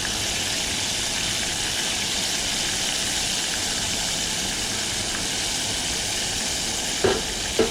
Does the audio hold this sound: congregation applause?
no